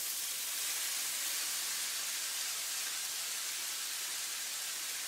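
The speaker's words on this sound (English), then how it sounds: "So I'm going to put all the vegetables into the skillet." Vegetables sauté in a skillet over medium-high heat, giving off a steady, even hiss like fine rain that stays constant and fairly close, with no talking.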